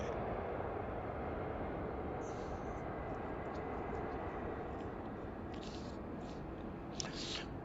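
An airliner rolls along the runway after landing at Heathrow Airport, producing a steady, broad jet engine roar at moderate distance, with faint brief higher tones near the end.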